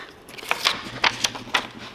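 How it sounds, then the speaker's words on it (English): Several crisp snips and rustles at uneven intervals, close by, like scissors cutting through paper. "I'll cut it with scissors"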